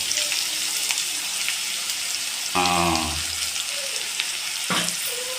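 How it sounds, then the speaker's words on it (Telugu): Cluster beans frying in oil in a village-style kitchen: a steady, loud sizzle runs throughout, with a brief clatter of stirring partway through and a voice speaking faintly underneath. "ఒక ఐదు నిమిషాల పాటు అలా నూనెలో వేగించుకొని"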